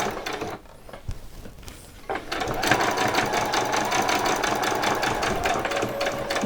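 A sewing machine stitches Christmas pyjama fabric, starting with a few short halting bursts and then settling into a loud, fast, steady whirring run close by.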